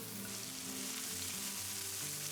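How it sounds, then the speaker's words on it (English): Diced onions frying in hot olive oil in a frying pan, a steady soft sizzle that stays even and continuous throughout with no talking. "Get the frying pan back on the heat and add the 2 remaining tablespoons of olive oil. Once it's hot, add the diced onions."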